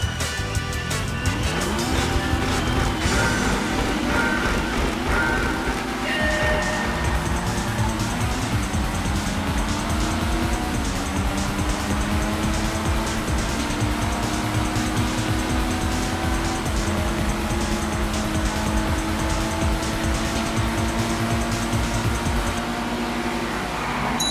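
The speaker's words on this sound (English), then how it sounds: "time for the drag performance test" Cars race in a GTA Online drag performance test, with a loud continuous engine roar, rising gear-shift sweeps and tire squeal across the whole stretch, and no talk.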